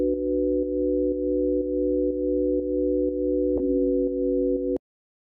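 A sine wave synth pad from Ableton Live Wavetable sustains a steady chord of pure tones, pulsed by soft regular clicks, shifting slightly near the end before stopping abruptly.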